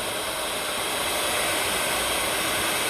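A heat gun blows steady hot air to melt embossing powder on a greeting card, giving an even, close-up whooshing hiss with no breaks and no talking.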